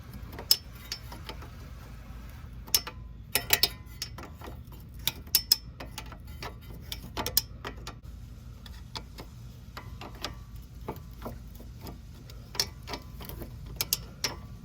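Small metallic clicks and ticks from a wrench turning a nut on a 2016 Mazda 3 sway bar end link, scattered irregular taps close up over a low steady hum, no voices.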